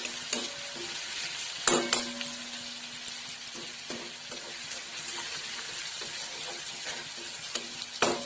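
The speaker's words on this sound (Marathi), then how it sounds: "चांगलं फ्राय करून घ्यायचं 2 मिनिटं. गॅसची फ्लेम मोठीच ठेवायची." Ghevda flat beans frying on a high gas flame, a steady hissing sizzle in the pan with occasional scrapes and knocks of a stirring spoon.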